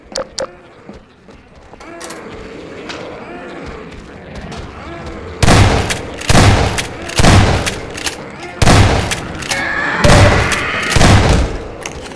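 A rollermine being destroyed in the Half-Life 2 video game, heard as a run of loud, evenly spaced booming blasts and thuds following quieter clattering.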